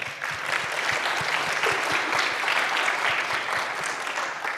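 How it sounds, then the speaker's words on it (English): An audience at a conference applauds speaker Rob, a full even clatter of many hands, steady and moderately distant, with no talking over it. "Big applause for Rob."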